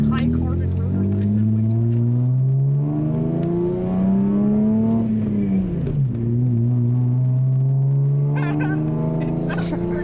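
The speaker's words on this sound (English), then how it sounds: "Actually, I do really like how this engine sounds." A Nissan Z31 fitted with blast pipes runs up through the revs with a loud, raspy exhaust note close by, the pitch climbing, dipping briefly around a shift, then building again.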